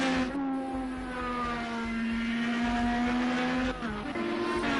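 Race cars in a racing video game lapping Road America during practice, a loud, steady, high engine whine with shifting pitch that dips briefly near the end, heard alone without talk.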